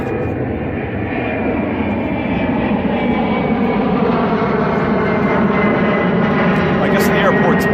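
An airplane passing near a busy airport, a broad loud roar that holds steady and swells slightly over several seconds, with a person talking over it.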